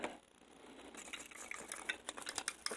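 Something stirs a mixture in a container for tabletop terrain crafting, giving soft scraping and faint clicks that turn into quicker, louder taps against the sides. The sound is close and quiet, with no voices.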